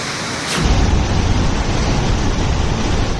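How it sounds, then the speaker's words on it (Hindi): A waterfall on the Waghur river, flooded after heavy rain, roars as a dense, constant rush of water, loud and close, swelling suddenly after a brief quieter start and holding steady. "वाघुर नदी में आई बाढ़ के बाद इस झरने में भी लगातार पानी बढ़ता जा रहा है।"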